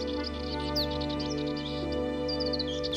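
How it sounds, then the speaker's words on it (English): Dartford warbler chicks on lowland heathland with gorse, giving thin, high-pitched chirps in quick bursts over a steady low background drone, faint and fairly close. "The Dartford warbler's chicks have left the nest."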